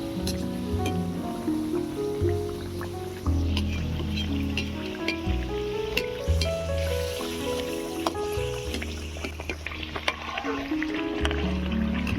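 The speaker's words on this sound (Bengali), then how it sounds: "তেলটা গরম হয়ে গিয়েছে এবারে সমসা পিঠাগুলোকে ভেজে নেব" Palm (taal) samosa pitha frying in a wok of hot white oil, a steady loud sizzle and bubbling crackle that runs throughout with no talking.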